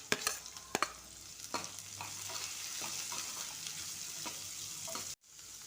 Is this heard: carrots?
yes